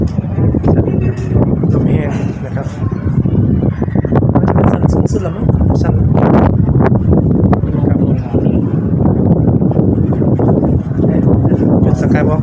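Strong wind at an observation tower in Roi Et, Thailand, a loud continuous roaring buffet against the microphone that barely lets up, with people talking underneath.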